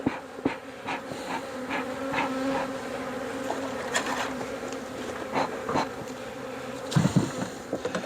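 Honeybees buzzing in a horizontal hive as they are smoked, a steady close insect hum with scattered louder buzzes of bees flying past and light handling knocks.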